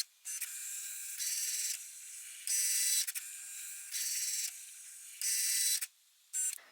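A Cricut cutting machine cuts a card, giving rapid high-pitched mechanical whirring and clicking bursts that alternate in short even segments, close and quiet with brief pauses.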